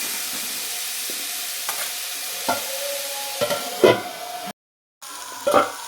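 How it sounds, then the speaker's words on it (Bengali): Pumpkin slices frying in a covered pan with turmeric, a steady soft sizzle underneath while a spatula scrapes and stirs in a few distinct clacks, ending with a brief cutoff and renewed stirring. "এটাকে ভালোভাবে আমি নাড়াচাড়া করে নেব।"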